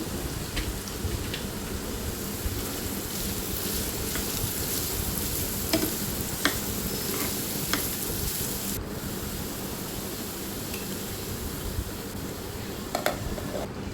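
Carrot and cashew frying with turmeric in a pan, a steady dense sizzle that runs continuously and close, with a few faint scrapes and ticks on top and no voices.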